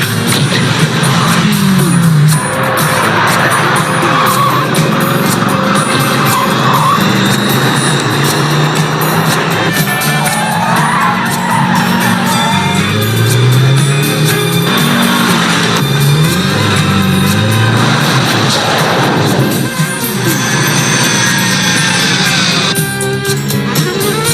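A tow truck speeds away with its engine roaring loudly, its pitch rising and falling in sweeps, while tires skid amid a continuous, busy din.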